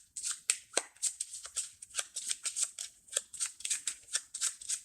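Cards being drawn and handled during a solo game of the Space Race board game: a close, quick series of papery flicks and swishes in an uneven rhythm, with no talking.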